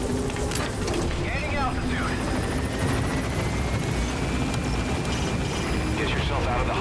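Helicopter rotor whump and engine drone from Metal Gear Solid V: The Phantom Pain, loud and steady throughout as the chopper lifts off, with voices talking over it.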